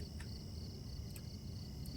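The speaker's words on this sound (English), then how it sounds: "As we hear the sounds of crickets and whatnot." Crickets chirp steadily in a nighttime forest within the video game Silent Hill 4: The Room, a thin high insect trill sitting over low ambient rumble, constant and moderately faint throughout.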